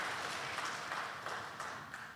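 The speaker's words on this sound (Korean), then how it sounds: "문면원 집사님 위해서도 박수 한번 보내주시기 바랍니다" A church congregation at an evening prayer service gives a short, soft burst of dense, continuous applause, heard from some distance.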